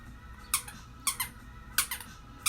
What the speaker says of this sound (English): The squeaky toy!